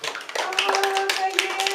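A short burst of close hand clapping at a civil sponsorship ceremony, a few people applauding briefly, with a voice heard alongside.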